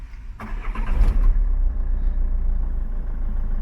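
A Citroën C4 engine cranks briefly and catches, then settles into a steady, close idle with a deep low rumble and no talking.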